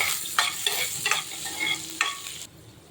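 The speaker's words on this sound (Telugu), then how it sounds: "ఉల్లిపాయలు కూడా వేగిపోయినాయి" Sliced onions with cumin sizzle steadily in a pan while a spoon scrapes and stirs in several sharp, irregular strokes, close and fairly quiet, with no voices; the sizzle cuts off near the end.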